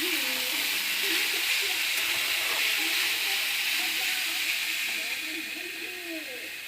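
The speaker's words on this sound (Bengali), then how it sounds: "আর এদিকে আলু ভাজা বসিয়ে দিয়েছি" Sliced potatoes for aloo bhaja fry in a pan at home, giving a steady close sizzling hiss that runs throughout, with faint voices underneath.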